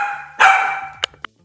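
A dog barks close by: one long, loud, drawn-out bark, then two short, sharp barks in quick succession.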